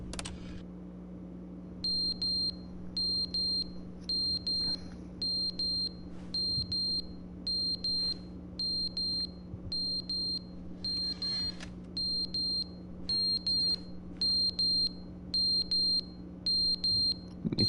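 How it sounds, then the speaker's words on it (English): Repeating low-battery chirp from a smoke detector in the video game The Stanley Parable, short bright double beeps in a steady rhythm about every second, loud and close over a constant low fan hum. "It's much more annoying than an actual smoke detector"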